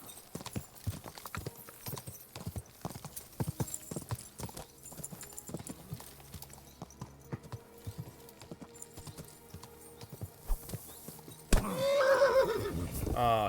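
In the video game Kingdom Come: Deliverance 2, rhythmic clip-clop of horse hooves at a steady trot, ending in a loud, close whinny.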